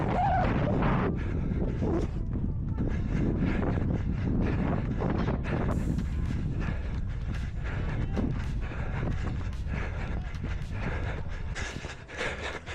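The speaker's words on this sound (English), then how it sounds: "You can hear on the video how bad the wind was" Strong headwind buffets the microphone of a runner during a marathon training run, a loud, continuous roaring rumble that fills the whole clip with no talk.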